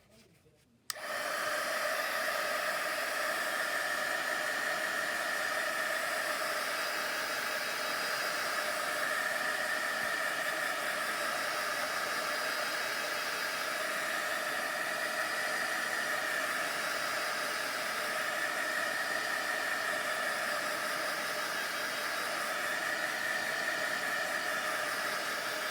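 A heat tool dries freshly stamped craft work, switching on after a brief quiet moment and then blowing in a loud, steady, hissing roar that carries on without a break, with no talking.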